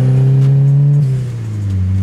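A turbocharged VW Gol accelerates loudly nearby, its engine drone climbing steadily before a gear change drops the pitch around the midpoint, then pulls again at full volume with no voices.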